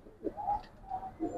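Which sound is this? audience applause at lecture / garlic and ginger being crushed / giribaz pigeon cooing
giribaz pigeon cooing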